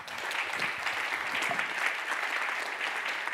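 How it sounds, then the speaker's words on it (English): A conference audience applauds steadily, dense clapping at an even loud level throughout with no break. "please give a round of applause to Greg"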